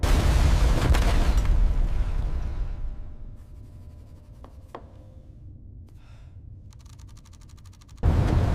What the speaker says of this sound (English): A new sequence of depth charges enters the water.